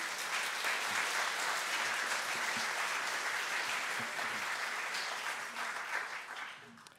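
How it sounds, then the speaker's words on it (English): Audience applause fills a panel discussion hall, a steady dense clapping that holds for several seconds and thins slightly at the end. "Please, can we give them a round of applause?"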